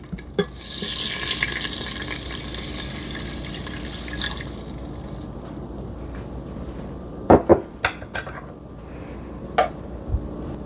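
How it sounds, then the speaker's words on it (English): A cup of chicken broth poured into a pressure cooker makes a hissing, splashing stream for the first few seconds, then fades to quiet with a handful of sharp clicks and knocks from the pot. "then we are going to be pouring in 1 cup of chicken broth"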